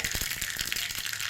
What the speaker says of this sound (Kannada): ಸಾಸಿವೆ ಸಾಸಿವೆ ಸಿಡಿತಾ ಇದೆ